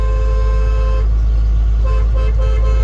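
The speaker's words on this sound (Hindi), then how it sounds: "गाड़ी की हॉर्न चेक करवाओ यार" A car horn honks in short bursts over a loud, steady engine rumble, close by and fairly harsh.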